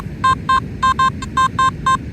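Nokta Simplex+ metal detector in park mode sounding over a fine, small silver chain: eight short, evenly spaced electronic beeps, loud and clear over faint background hiss.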